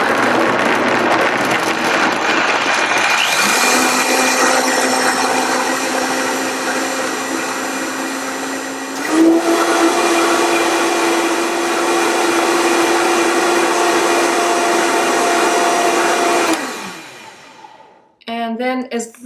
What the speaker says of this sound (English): And I'm just going to put my lid on and make sure my blender's on low as usual. And then we're going to go ahead and turn it on.